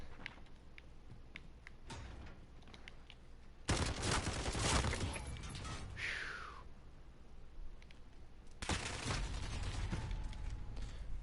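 Gunfire in Call of Duty: Modern Warfare: bursts of shooting with sharp transients, a louder sustained volley in the middle, then more shots toward the end, at moderate volume.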